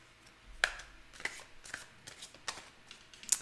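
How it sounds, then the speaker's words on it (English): Tarot cards shuffled by hand, giving quiet, scattered riffles and soft taps in short bursts with pauses between. "I will pull some cards for you"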